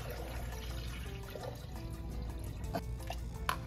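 Water poured quietly into a container as the base for a beetroot drink, a soft continuous trickle and splash at low level with faint kitchen background.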